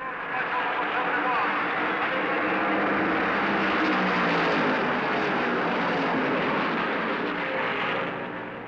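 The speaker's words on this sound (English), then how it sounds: "The green flag is out, and Donnie Allison floors the throttle" Stock cars at the 1970 Darlington Southern 500, led by Donnie Allison and Cale Yarborough's number 21 Mercury, accelerate off the green flag in a dense, sustained engine roar that swells and holds, with announcer commentary beneath it.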